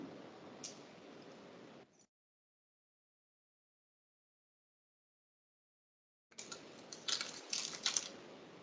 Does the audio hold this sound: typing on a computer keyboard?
yes